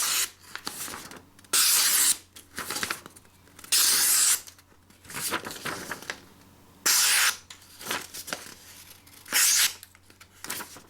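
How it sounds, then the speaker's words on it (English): Repeated bursts of a Mora Craftline 511 knife blade slicing through paper, each a crisp tearing rasp lasting about half a second to a second, separated by short quiet pauses. "here it is on paper before I cut most of those other things"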